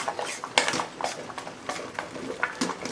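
Spoon stirring a thick homemade chocolate mixture in a bowl, with repeated soft scraping and clinking strokes in a steady rhythm, close and moderately loud.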